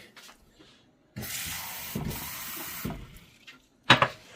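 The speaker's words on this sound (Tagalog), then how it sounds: "lalagyan ko ng hot water" Hot water pours into a cup in a steady stream for about two seconds, then stops, followed by a brief clink and splash nearby.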